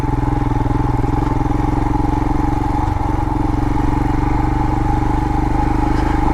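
A 2022 Royal Enfield Himalayan single-cylinder motorcycle chugs steadily in low gear up a sharp-turning desert trail in southwest Utah, its engine note loud, close and continuous with a faint clatter.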